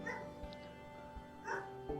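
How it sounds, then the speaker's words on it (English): A dog barks nearby in short, soft yips and whimpers, a few bursts spread across a quiet room background. "My dog is barking."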